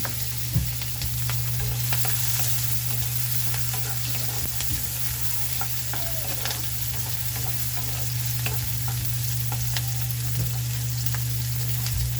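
Garlic fries in a pan, giving a steady, loud, close sizzle with small crackles and occasional stirring clicks, and a constant low hum underneath.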